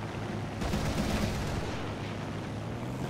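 Rapid machine-gun fire from a fighter plane in War Thunder aerial combat, a sustained rattling burst over steady engine drone, fairly loud and close throughout.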